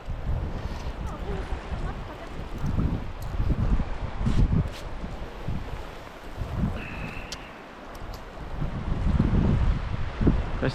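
Wind gusts across a frozen lake during winter ice fishing, buffeting the microphone with low, rumbling surges that swell and ease over a constant airy rush, with no voices.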